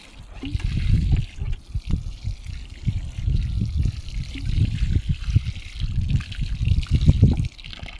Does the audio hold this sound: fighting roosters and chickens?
no